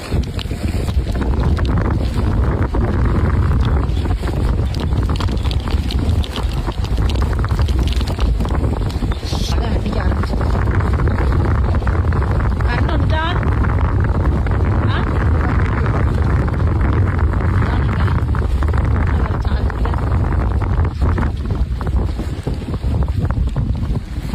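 Strong wind roars steadily into the microphone throughout, a loud, constant buffeting rumble with no breaks, heavy enough to bring down branches and cut power.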